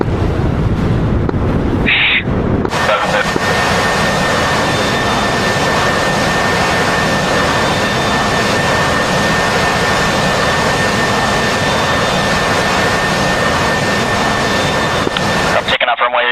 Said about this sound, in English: I'm taking off runway 16